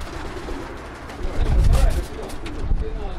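Show pigeons returning from a flight at a club gathering in Volos, heard as a close, continuous stretch of low cooing and fluttering bird sounds mixed with background noise.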